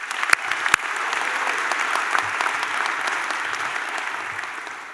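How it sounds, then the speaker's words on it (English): Commencement ceremony crowd for a medical college breaks into sustained applause, a dense steady wash of many hands clapping in a large hall, with a couple of sharp nearby claps at the start. "I think that in itself deserves a round of applause."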